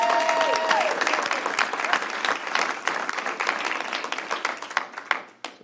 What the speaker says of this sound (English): Please join me in applauding their efforts on behalf of the community.